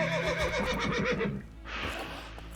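A horse under attack in The Witcher 3 gives a loud, close, shaky whinny lasting over a second, followed by a softer breathy snort against game ambience.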